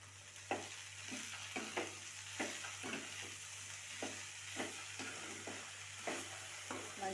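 Tomatoes and ivy gourd fry in oil with a steady sizzle while a spoon stirs them, scraping the pan in repeated strokes roughly once a second, close and fairly quiet, with no talking.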